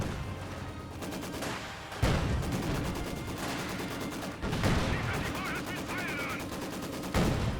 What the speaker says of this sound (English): T-70 shooting, doing some damage.